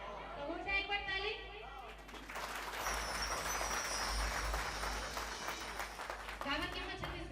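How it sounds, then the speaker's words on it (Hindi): An audience at a Chhattisgarhi stage show breaks into a few seconds of dense clapping, loud and fairly close. Someone speaks before the applause and again as it fades. "तो हो जाए एक बार ताली"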